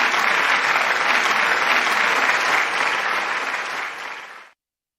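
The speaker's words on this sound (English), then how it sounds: "With a big, big round of applause, let's welcome Mr. Shraddhanand Sheetalji." A large hall audience at the World Parliament of Science, Religion and Philosophy gives loud, dense applause welcoming a speaker, steady for about four seconds before fading and cutting off to silence.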